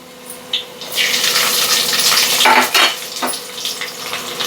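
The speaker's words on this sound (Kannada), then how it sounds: "ಈರುಳ್ಳಿ ಹಾಕ್ಕೊತಾ ಇದ್ದೀನಿ" Onion tipped into hot oil with mustard seeds and browned garlic for a bitter gourd gojju, a loud close burst of sizzling that swells and crackles with stirring scrapes, no voices.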